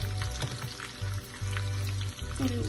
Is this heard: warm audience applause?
no